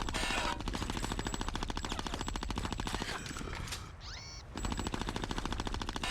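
Rapid automatic gunfire from shooting in the Conker: Live & Reloaded video game, a dense continuous rattle that breaks briefly near the end with a whooshing sweep, then resumes at full loudness.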